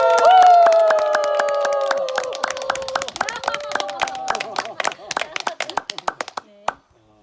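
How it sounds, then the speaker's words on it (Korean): An audience at a church lecture claps and cheers to welcome a speaker, a loud sustained tone at the start giving way to a scattered flurry of handclaps that thins out and stops. "한상열 박사님을 뜨거운 박수와 함성으로 모시고"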